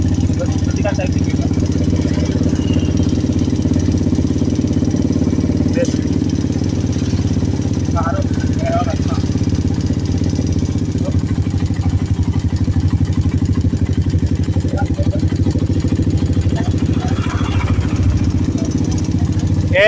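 A Suzuki Satria FU150 motorcycle engine with a rough running fault idles and is revved up close, a steady clattering drone that continues for the whole stretch while someone talks over it.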